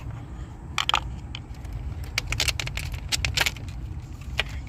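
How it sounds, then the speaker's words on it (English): Flathead screwdriver prying a plastic clip loose on the 1.4 turbo engine of a 2015 Chevy Cruze during a valve cover swap, a run of small close metallic clicks and scrapes over a low steady background hum. "Got to get a flathead. Get right up in there and pull that clip out."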